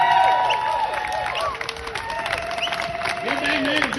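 Crowd at an outdoor political rally clapping and cheering for a speaker, a sustained spread of applause with voices and whistle-like tones over it, fairly loud and close.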